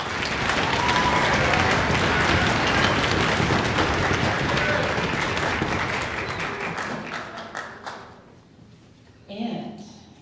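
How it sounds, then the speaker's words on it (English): An audience at an elementary school festival band concert claps for high school mentors, a full crowd of applause that holds steady for several seconds, then thins out into scattered claps with a short final burst. "So let's give them a special round of applause."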